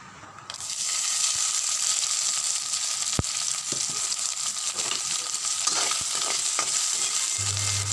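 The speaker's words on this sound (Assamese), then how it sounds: "এয়াই নাৰিকল, বিলাহী, জলকীয়া, সৰিয়হ এনেকৈ অলপ সময় ভাজি থাকিব।" Coconut, tomato, chili and mustard fry in a pan with a loud, continuous sizzle. A few sharp clinks of stirring break through the steady crackle.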